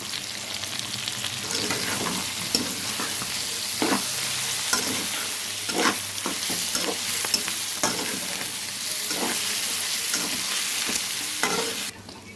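Ginger paste fries and is stirred in a hot pan, a loud continuous sizzle broken by regular scraping stirs close up, with no talk until the sound cuts off near the end.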